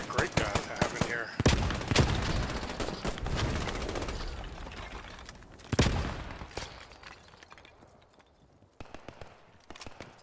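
StG assault rifle gunfire in the World War II shooter Post Scriptum, fought around the town of Sainte-Mère-Église: sharp, loud shots in bursts and singles with rattling echoes, some near and some farther off.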